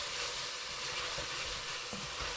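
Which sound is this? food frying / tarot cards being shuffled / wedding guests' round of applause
food frying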